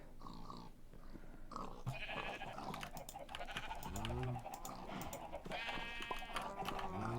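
Sheep bleat several times over a busy backdrop of clicking and soft electronic noise, the animal calls sounding synthetic and game-like.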